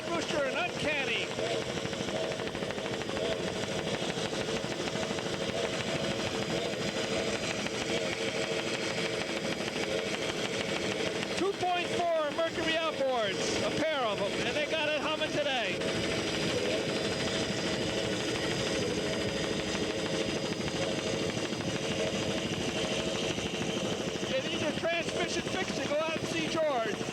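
Two powerboats with twin 2.4 Mercury engines race side by side at a 1981 regatta, a steady loud engine drone with a rising whine of passing hulls midway, under commentary.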